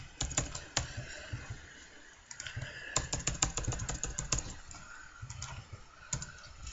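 Close computer keyboard typing comes in irregular bursts of crisp key clicks with brief pauses, quiet and near, with no voices over it.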